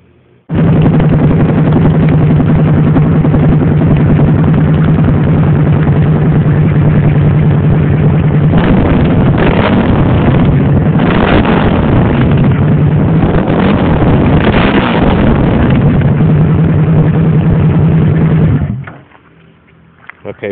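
Suzuki V-Strom DL1000 motorcycle with a modified exhaust, running close by in a loud steady idle that briefly revs up in the middle before settling back and cutting off near the end.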